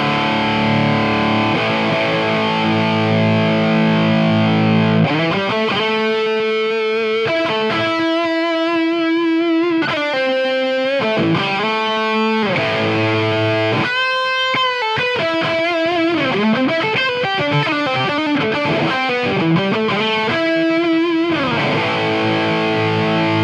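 Distorted electric guitar from a 1x10 combo amp run through a 4x12 speaker cabinet, playing chords and melodic lead lines in a continuous, loud, close passage with no talking.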